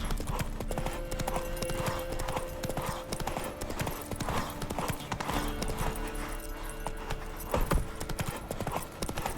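The horse Roach gallops in The Witcher 3, its hooves beating a steady, rapid clip-clop rhythm with a brief whinny, set against a faint game soundscape without speech.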